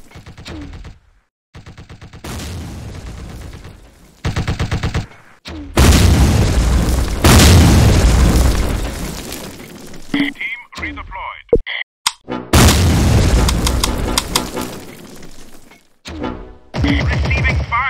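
Gunfire and explosions in a Combat Mission wargame set in the Stalingrad campaign: loud, dense bursts of rifle and machine-gun fire with heavy booming blasts, coming in waves separated by brief pauses, with faint radio-like voice chatter between volleys.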